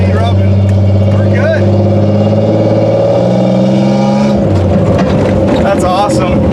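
A 1990 Pontiac 6000 with factory all-wheel drive drones steadily and a little raspily while driving, its pitch climbing and shifting as it revs, with people talking inside the car over it.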